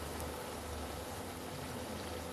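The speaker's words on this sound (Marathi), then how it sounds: "तर इथे आपण हळू पुरी सोडलेली आहे तुम्ही बघू शकता मस्त तेल गरम झालेलं आहे" A puri deep-fries in hot oil, a soft, steady bubbling sizzle heard close and continuous without speech.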